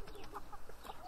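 A chicken clucks softly in short bursts, close and quiet.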